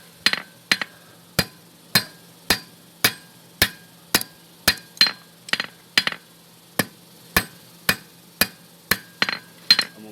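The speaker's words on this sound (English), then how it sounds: "using a round side of my hammer." A young blacksmith in training hammers hot steel to forge a fork, using the rounded face of the hammer; about twenty sharp ringing blows land at a steady, fairly brisk rhythm, close and distinct.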